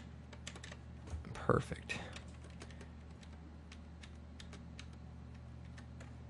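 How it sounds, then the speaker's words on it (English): Computer keyboard keys tap repeatedly as someone pages down through frames in After Effects, a scattered series of light clicks with a brief louder burst near the start, alongside a short spoken word. "I'm just hitting page down and just going through it, and a few more frames, a few more frames."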